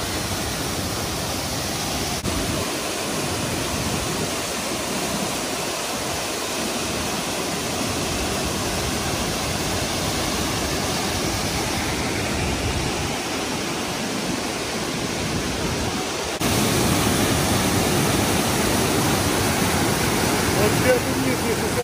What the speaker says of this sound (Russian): особенно вот этот вид меня очень впечатлил, сверху вниз вот водопад